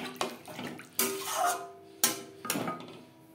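Water poured from a rinsed mixer jar into a cooking pan of mustard gravy for a bele fish curry, several short splashing pours in separate bursts, close and moderately loud, with no voices.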